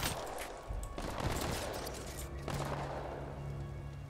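Gunfire in the first-person shooter Titanfall 2, bursts of rapid shots and heavy booms crowding a busy, loud battle soundscape without a clear pause.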